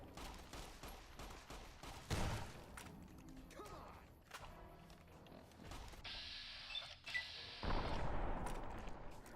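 A single shotgun fires in Fallout: New Vegas, with several sharp blasts among mechanical clanks and reload noises amid a dense, busy game soundscape at moderate level.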